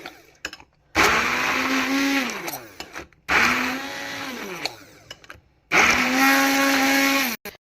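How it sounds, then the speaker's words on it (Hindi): A kitchen blender whirs loudly in three separate bursts of a few seconds each, with brief pauses between them, as it blends mayonnaise into a homemade white sauce. "चलें जी, अब मैं इसको भी ब्लेंड करूँगी।"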